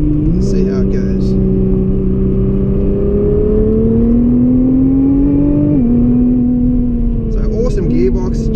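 A 2017 Nissan GT-R's engine drones loud and close from inside the cabin on the Great Ocean Road, climbing in pitch as it accelerates, then dropping with a downshift before pulling again between corners.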